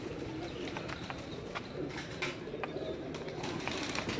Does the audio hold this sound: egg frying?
no